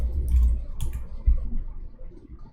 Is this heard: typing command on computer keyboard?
yes